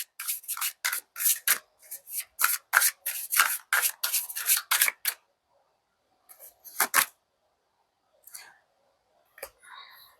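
A deck of tarot cards being shuffled in quick repeated riffling bursts for about five seconds, then a few sparse, quieter card rustles after a pause, close up with no talk.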